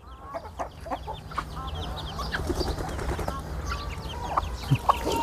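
Peruvidai-line rooster chicks and hens cluck and chirp in scattered, fairly faint calls over a low background hum, with no one speaking.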